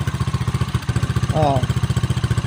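A motorcycle engine idles close by in a fast, even putter of regular pulses, with a person briefly speaking over it partway through.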